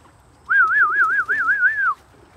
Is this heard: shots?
no